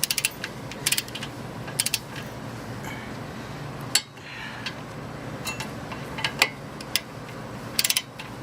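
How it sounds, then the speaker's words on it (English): Ratcheting torque wrench tightening front brake bolts on a 1995 Toyota Corolla, with sparse, sharp mechanical clicks in small clusters against a quiet garage background and no talking. "then we're going to torque it to 70"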